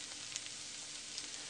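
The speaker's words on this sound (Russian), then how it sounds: "Пусть пока жарится дальше." Solyanka ingredients frying in an Afghan kazan give a steady, even sizzle with faint crackles throughout, close and continuous, no voices.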